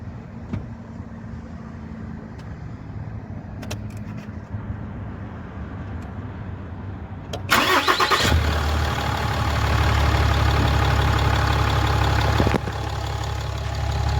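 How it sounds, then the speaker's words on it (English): A 2015 RAM 3500 diesel pickup engine cranks and roars to life partway through, then settles into a loud, steady rumbling idle through its exhaust after a stretch of quieter background noise. "Thing fires right up. It's pretty loud with the exhaust."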